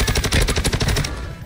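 Gunfire aimed at the player in Warzone 2: a fast, loud, rattling burst of automatic shots in close rapid succession, trailing off at the end.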